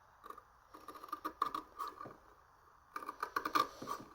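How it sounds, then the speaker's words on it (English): Scissors cut through fabric from the back side while piping is made, giving two bursts of close, crisp snipping and scraping separated by a short pause. "Right, crappy scissors coming"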